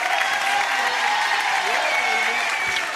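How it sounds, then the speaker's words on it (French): Audience applause for singers Jenifer, Garou and Florent Pagny on the French TV show Champs Elysées, a steady dense clapping that fills the hall for the whole moment, with a host's voice faintly over it. "On les applaudit encore."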